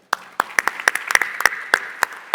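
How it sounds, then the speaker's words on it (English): A small audience at an energy summit panel session clapping, sharp distinct hand claps in a loose irregular rhythm, close and moderately loud, with no talk. "a big round of applause to all of you for all of your attention and engagement"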